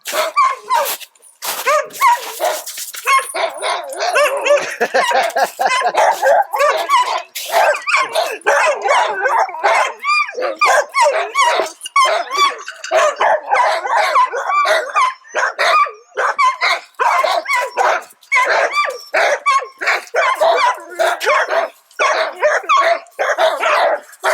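Several dogs kept near domestic reindeer in the forest-tundra bark, yip and whimper excitedly in a loud, nonstop chorus of overlapping barks close by, with no pause throughout.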